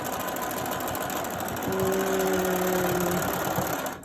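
A sewing machine runs steadily while back stitching a fabric face mask, a continuous whirring hum that rises briefly in the middle and stops near the end.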